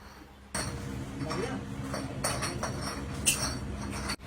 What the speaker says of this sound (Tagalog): Ang ingay ng bote.